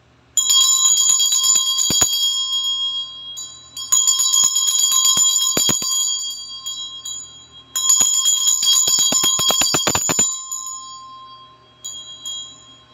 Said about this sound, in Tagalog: Medyo maingay po itong aking bell.